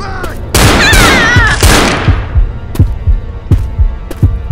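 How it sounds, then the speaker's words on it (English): Gunfire from Coach in the video game Left 4 Dead 2: loud, sharp shots, starting with two dense, roaring bursts and then single reports spaced about a second apart, close and dominant. "I know how to shoot a gun"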